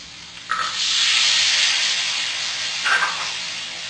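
Corn kernels sizzle in a hot pan while egg fried rice is being made, with a steady loud hiss swelling from the start and two brief louder crackling bursts as they hit the oil.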